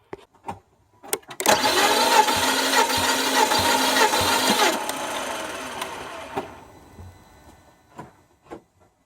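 A Volvo XC90 T5 engine cranks on the starter during a compression test, a rapid rhythmic churning that runs loud for about three seconds and then winds down, with clicks and handling noises around it.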